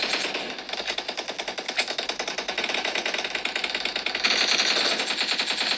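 Rapid automatic gunfire from the PUBG mobile game on a Mi 11 Lite phone, a dense continuous burst of rattling shots that runs the whole time, loud and unbroken with no talk.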